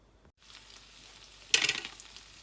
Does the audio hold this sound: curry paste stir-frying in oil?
yes